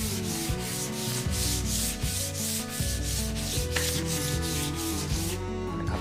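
Steady back-and-forth rubbing of folded sandpaper by hand on a wooden shaker-style door panel, close and even, with regular strokes and no talk.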